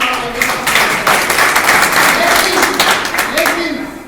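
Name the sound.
audience clapping, applause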